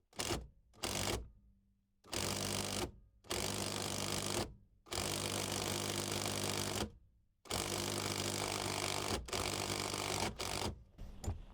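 An impact driver tries to undo bolts on a car, hammering in repeated loud bursts of a second or more, separated by brief silent pauses, close to the microphone with no talk.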